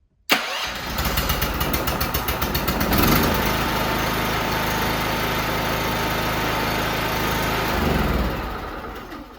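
Petrol generator engine catching on a start attempt and settling into a steady, loud running drone for the rest of the clip, with a brief surge near the end and no talk.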